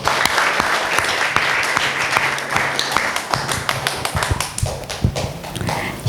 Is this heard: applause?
yes